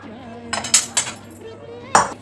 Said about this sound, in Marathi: म्हणून मग मी जरा चमच्याने ढवळून एकत्र करून घेते.